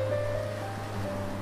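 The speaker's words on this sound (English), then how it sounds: "I'm staring into the ocean" Steady ocean surf washes continuously beneath a low, constant hum, an even rushing sound with no distinct wave breaks and no voices.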